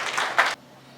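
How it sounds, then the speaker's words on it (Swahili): Brief burst of audience clapping at a regional youth wing political gathering, dense and loud for about half a second, then cutting off abruptly into quiet room tone. "Naomba tumpigieni makofi mengi sana."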